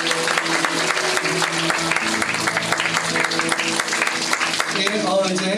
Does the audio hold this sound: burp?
no